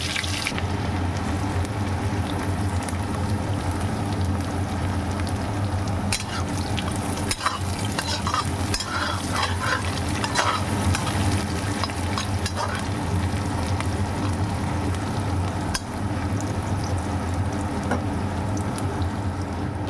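Crushed garlic and chopped onion fry in hot oil with black cumin and dried chilies, a steady close sizzle with scraping stirs throughout, no talk.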